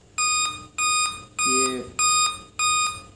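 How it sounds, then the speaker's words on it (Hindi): Computer motherboard sounding a five-beep error code: five loud, evenly spaced electronic beeps about half a second apart, with someone speaking briefly over the middle beep. "5 बीप हैं इसमें"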